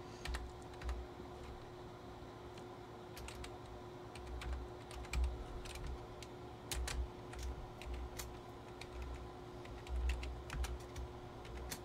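Quiet, irregular clicks of keys being pressed on a computer keyboard, coming in short bursts with small pauses, close and alone with no talk.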